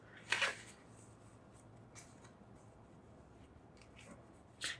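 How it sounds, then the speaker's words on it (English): Tarot cards shuffled and drawn from a deck, a couple of brief papery riffles and slides at the start and end, quiet and close in a still room. "I'm going to draw a few clarification cards."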